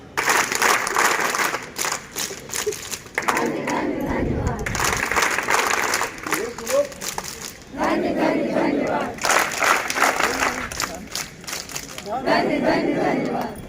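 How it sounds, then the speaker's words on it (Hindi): A group at a Scouts and Guides training day in Jaunpur claps and shouts in loud bursts, with pauses between rounds and voices mixed in throughout. "धन्यवाद, ताली बजा।"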